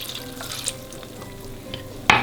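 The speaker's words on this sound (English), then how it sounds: "And now just give it a stir." A Christmas pudding mixture of fruit, peel, stout and dark rum is stirred in a bowl, with soft wet scraping and thick squelching close by and a sharper clatter near the end.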